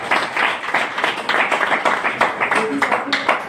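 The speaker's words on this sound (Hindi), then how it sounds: "एक जोरदार ताली।" A live audience at a product talk bursts into loud, brisk clapping that runs throughout, with a voice briefly rising over the many overlapping hand claps.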